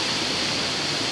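Mountain stream water flowing in Barangay Tuble, Tubungan, Iloilo, a steady close hiss of rushing water filling the brief moment.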